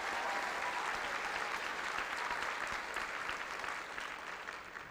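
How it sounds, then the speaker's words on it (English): Sustained applause from a large audience at a high school graduation for the top ten graduating students, a dense even wash of clapping that softens slightly at the end. "One more round of applause for our top 10."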